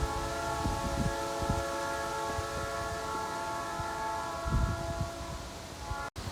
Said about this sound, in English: And I hear the train coming.